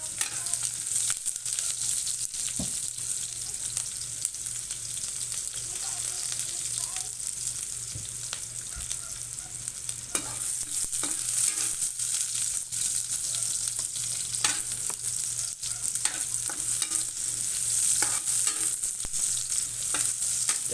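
Plenty of onions sizzle and fry in a pan, a steady crackling hiss with occasional scraping stirs and clicks, moderately quiet and close.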